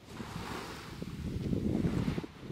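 Surf washes steadily onto Long Beach in the Perhentian Islands, a continuous low roar of breaking waves with wind buffeting the microphone, swelling slightly toward the end and heard alone without voices.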